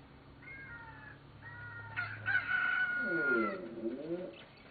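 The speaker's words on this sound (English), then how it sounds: "That's right, chicken. Cock-a-doodle-doo." Animated cucco chickens from the video game The Legend of Zelda: Ocarina of Time, heard as a run of thin clucks and squawks that build into a louder, wavering cry, with game music underneath.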